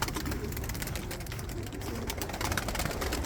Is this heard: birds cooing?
yes